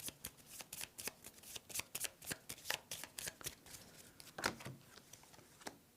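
A deck of board game cards riffled and shuffled up close, a rapid run of crisp papery flicks and slaps in quick rhythm, fairly quiet and with no speech.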